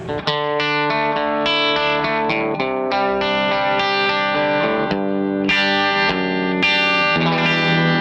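Guitar chords played through a J Rockett compressor pedal, heavily squashed and even in level, ringing continuously with a slightly distorted, processed tone.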